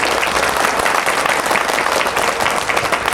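Men in a devotional gathering at Alandi clap loudly together, producing a dense, continuous burst of applause with no voices over it.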